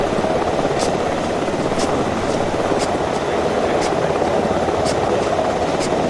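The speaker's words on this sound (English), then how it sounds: "we're getting another helicopter as soon as that lands" Huron transport helicopter in the military game ArmA 3, its steady rotor and turbine roar running continuously and loud throughout, with faint periodic blade slaps on top.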